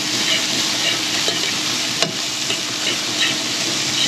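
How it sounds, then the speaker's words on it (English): Bacon frying in a pan, with a steady loud sizzle and hiss throughout and a few small pops and crackles rising above the constant frying noise. "And the bacon starts cooking."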